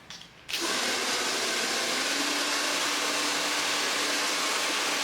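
A hair dryer blows steadily and loudly over a lace closure, switching on after a brief quiet start and then holding a constant broadband whoosh to the end, with no talking.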